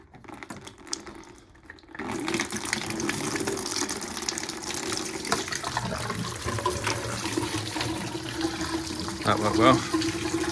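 Coolant drains from a Westfield car into a bucket, a steady pouring gush that starts suddenly after a quiet moment and runs on continuously, close up, with a brief louder splash near the end.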